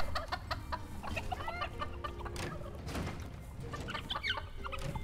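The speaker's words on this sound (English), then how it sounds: "Eat the chickens." Chickens cluck steadily in a farm scene from the video game Dungeons 4, several birds overlapping in a busy, continuous stream of clucks and short calls at moderate loudness.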